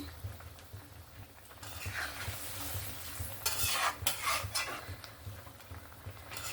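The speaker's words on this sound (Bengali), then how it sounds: "লবণটা দিয়ে আবারও নাড়াচাড়া একটু করে দিলাম।" Seafood fish curry simmering in a pan is stirred after salt goes in, the spoon scraping and swishing through the sizzling gravy in uneven strokes, close and moderately loud, no voices.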